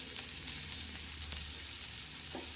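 Onion sautés in oil in a pan with a soft continuous sizzle and faint stirring, quiet and steady throughout.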